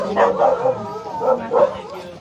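A dog behind a door in a cramped, flooded residential alley barks in a few close, loud bursts, with short gaps between them.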